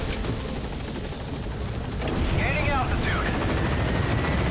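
A helicopter in the video game Metal Gear drones on steadily as a loud rotor wash, with a whooshing sweep and a brief beep-like chirp partway through.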